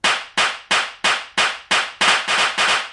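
Nine sharp claps in a steady rhythm, loud and dry, each with a quick decay, the last few slightly doubled.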